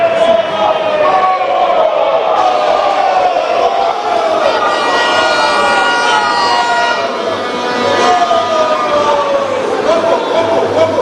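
A large crowd at a political party manifesto launch rally roars and cheers continuously to welcome a speaker, with horn-like tonal blasts and chatter woven through the steady, loud din.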